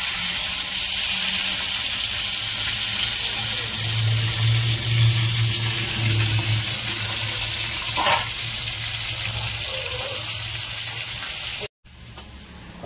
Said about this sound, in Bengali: এবার আলুটা দিয়ে দেবো। আলুটা ভেজে নিচ্ছি।